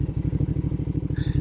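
A Royal Enfield Super Meteor motorcycle idles through a hill spin test, its engine giving a steady, close, pulsing low thump with a regular beat that holds from start to finish.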